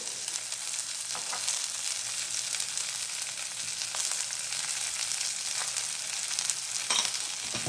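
Grated coconut sautéing in a pan for mutton kheema gravy makes a steady, fairly quiet frying hiss. Occasional faint scrapes of a spoon come through, and there is no speech.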